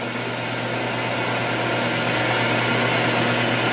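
A wood lathe running at steady speed, about 1,000 RPM, while turning a fountain pen, a constant loud motor whine and hum with no pauses and no voices.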